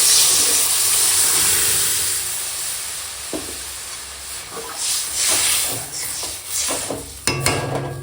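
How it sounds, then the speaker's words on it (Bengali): Turmeric-mixed lentils poured into a hot pan of tempered tomatoes, giving a loud steady hiss and sizzle that slowly subsides, broken by a few stirring scrapes and knocks near the end. "এখন দিয়ে দেব এই যে হলুদ দিয়ে ঘেঁটে রাখা ডাল"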